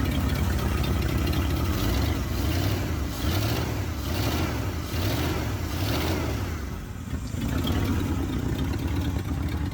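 The original 390 FE V8 in a 1976 Ford with about 180,000 miles idles steadily with a deep, lumpy rumble, the running note rising slightly and easing back over several seconds.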